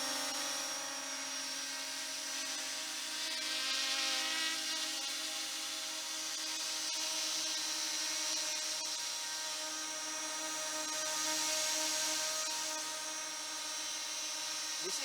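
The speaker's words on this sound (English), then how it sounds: "This is mini drone." A YLRC S106 mini quadcopter drone of about 180 grams hovers nearby, its small propellers giving a steady high-pitched whine with tonal hum that swells and eases slightly over time, no speech.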